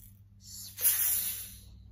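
Young nursery children give a breathy, hissing water sound in a short swell lasting about a second, voices imitating splashing sea water, faint and close.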